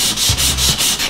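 Close, loud sanding by hand of an aluminum foil ball, about five quick back-and-forth strokes of abrasive rubbing in an even rhythm.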